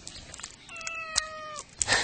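A cat meows once, a clear drawn-out tonal cry, fairly close, with light background noise around it.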